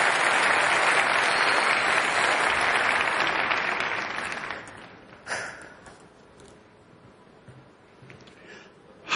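Loud applause from an awards-ceremony audience for a presenter on stage fills the first half, then fades quickly into near quiet with a few scattered claps.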